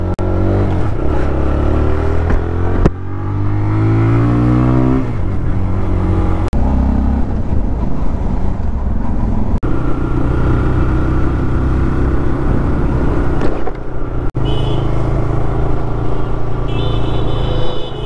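A TVS Raider BS6 motorcycle ridden through city streets, its engine droning loudly and continuously close by, with rising and falling pitch as it accelerates and shifts, over wind noise.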